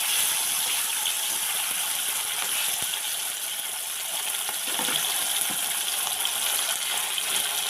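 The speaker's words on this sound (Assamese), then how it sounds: "এইখিনি চিকেনখিনি এতিয়া মই এইখিনি ভাজি ল'ম ইয়াত দি দিছোঁ তেলত" Steady bright sizzling hiss of chicken pieces frying in hot oil, continuous and close, with faint clinks and rattles through it.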